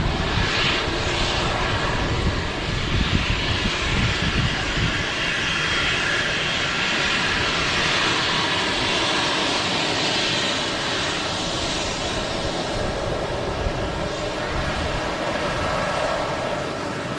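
A KLM Embraer 190 airliner's jet engines roar loudly and steadily as it passes nearby, a broad continuous rumble filling the whole stretch without speech.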